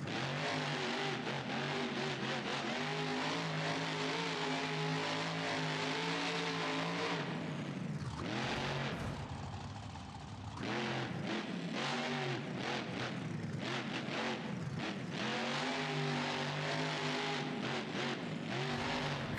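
Truck engine revving in the BeamNG.drive driving simulator, a loud, continuous motor roar with rising and falling pitch and a brief dip in the middle, without any talk.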